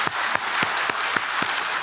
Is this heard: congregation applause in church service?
yes